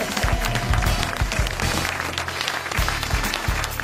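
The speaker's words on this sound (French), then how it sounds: "ce sont de vrais applaudissements" Genuine studio audience applause on a French TV comedy panel show, a steady dense wash of clapping throughout with a low rumble underneath and no voices.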